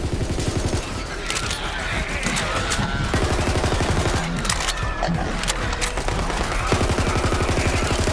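Dense automatic gunfire in the shooter Borderlands 3, loud rapid bursts layered over one another without pause, with faint shouting voices mixed into the battle.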